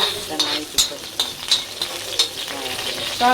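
Cumin seeds crackle in a small amount of hot oil for vada pav, a dense sizzle punctuated by repeated sharp clinks and scrapes of a spoon against the pan, close and fairly loud.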